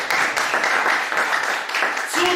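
Audience applause at a live entrepreneurs' talk event in Ilorin, Kwara State: dense, continuous clapping from a crowd that stays loud throughout, with a voice faintly mixed underneath.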